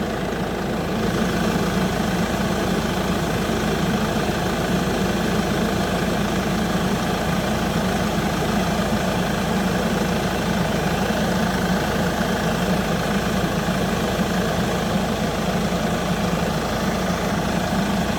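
A car engine idles steadily at close range, a constant low rumble with faint vibration that holds unchanged throughout.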